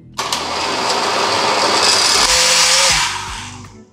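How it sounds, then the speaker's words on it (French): A blender whirs loudly and steadily, mixing a green sauce of yogurt, lime, spinach and fresh coriander, then winds down and stops near the end. "Et on vient mixer."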